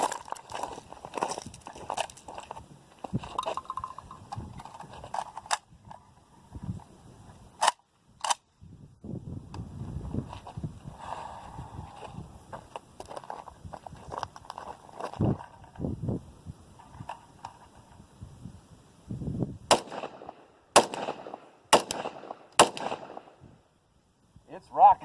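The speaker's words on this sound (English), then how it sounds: "I'm hitting it. I don't know if you can hear the ping." Rifle rounds strike a freshly painted steel target outdoors, giving several sharp, distant metallic pings and cracks spread unevenly over quieter stretches, with a tight burst of impacts near the end.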